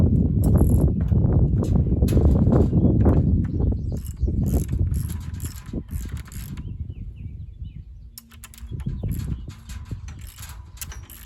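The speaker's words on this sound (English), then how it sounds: "we'll put one nut and washer on there for now" A nut and washer go onto a bolt on a windmill, with metallic clinks and ratcheting rattles over a steady rumbling background and a few faint bird calls outdoors.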